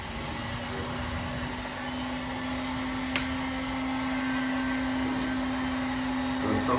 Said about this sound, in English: The sound that is coming because there is a motor here.